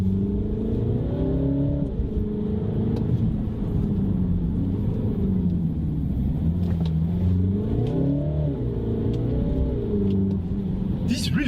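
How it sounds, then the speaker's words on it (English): A 2018 MINI Countryman Cooper SD All4 diesel accelerates hard from inside the cabin, its engine note climbing and dropping through gear changes in two clear rising sweeps, steady and loud with no talk. "it's incredible how well it accelerates"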